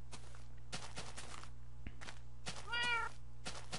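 A cat in Minecraft gives a single clear meow amid repeated muffled thumps and footstep-like game sounds over a steady low hum.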